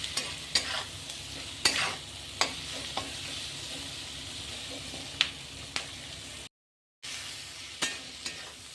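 Spices frying in a pan while being stirred, a steady soft sizzle broken by repeated scraping and clinking strokes of the spoon, with one brief silent gap.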